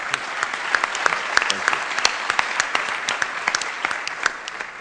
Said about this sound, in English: He deserves to be applauded one more time